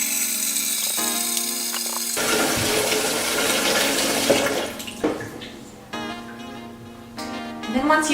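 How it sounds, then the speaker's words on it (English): Water runs from a tap into a sous vide container, a steady filling rush that shifts in pitch as the vessel fills, with pauses and brief handling knocks. "So you're going to take your container and fill it with water."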